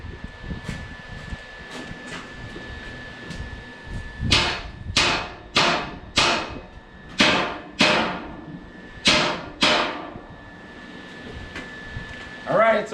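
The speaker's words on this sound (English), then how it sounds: "So a good 10-pound hammer will do the trick." About eight loud, ringing blows of a 10-pound hammer on welded metal, struck at a steady pace with short pauses, followed by one more hit near the end.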